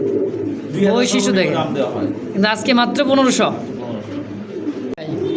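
English Carrier pigeons at a fancy pigeon sale, soft low coos rising in a few bursts close by while someone talks loudly over them.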